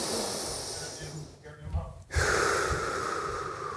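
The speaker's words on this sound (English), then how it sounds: "Two breaths." Two deep, audible breaths are taken during a squat exercise, one short sharp intake followed by a longer forceful exhale through the nose, close and loud.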